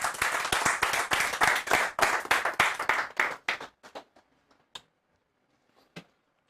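An audience at a debate forum applauds a guest coming to the podium, a dense burst of clapping that thins into scattered claps and fades to a few last isolated claps.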